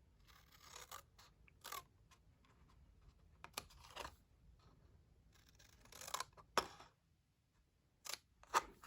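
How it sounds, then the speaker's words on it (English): Scissors trimming paper flaps up to a horizontal score line during a papercraft project, heard as quiet, close snips and paper rustles that come in irregular bursts with short pauses between them. "So you're going to want to take your scissors and just trim all the way up to that horizontal score line right here."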